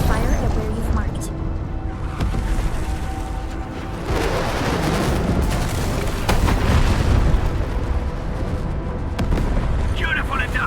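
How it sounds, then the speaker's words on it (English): UWST strikes in the game Arknights Endfield land as heavy booming explosions, dense rumbling blasts that roll continuously through a loud battle soundscape. "The UWST will fire at where you've marked."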